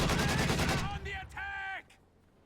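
Gunfire from a WWII strategy game battle with a Zis anti-tank gun and a Puma armoured car, heard as a dense burst of loud shots followed by short tonal effects and quieter game sounds.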